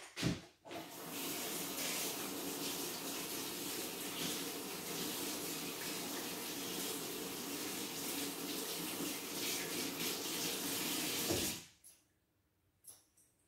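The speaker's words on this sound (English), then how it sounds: "So just wash my hands." Hands being washed under a running tap, a steady loud gush of water for about eleven seconds that cuts off abruptly, followed by a few faint drips and handling sounds.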